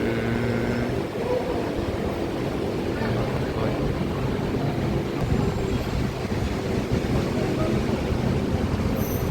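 A BTS Skytrain rumbles along steadily near Mo Chit station in Bangkok, with broadband rolling noise throughout, a brief higher tone near the end, and faint voices in the background.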